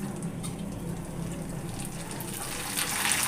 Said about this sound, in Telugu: ఆయిల్ చాలా అంటే చాలా హీట్ ఎక్కింది, కొద్దిగా వేయించుకుందాం.